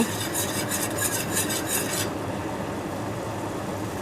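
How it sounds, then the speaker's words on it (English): Apple cider jelly coming to a boil in a pot, stirred with a utensil: rhythmic scraping strokes for about two seconds over a steady bubbling hiss, which then continues alone. "It's starting to boil now. We can kind of stir it down though"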